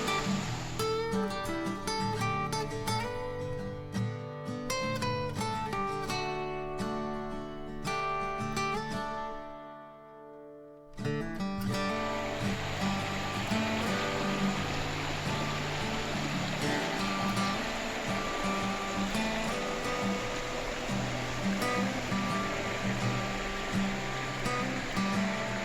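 Creek water rushes steadily at a trail crossing on the Panther Creek Falls hike in Georgia. A continuous broad roar fills most of the clip after a brief dip, with no talking.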